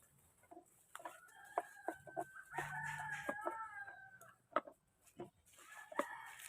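A rooster crows in a long drawn-out call, with shorter clucks and squawks before and after, fairly close in a quiet outdoor setting.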